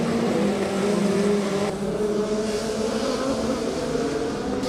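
A Formula Student race car running on track during an endurance event, its engine holding a steady droning tone with slight pitch shifts, heard from a distance under a continuous broad wash of noise.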